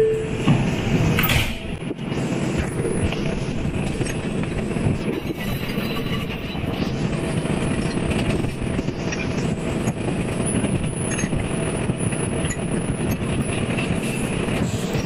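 A Manhattan-bound 2 local train on the New York subway runs with a steady, loud rolling rumble, car noise and faint rattles throughout, and a brief sharper clank near the start.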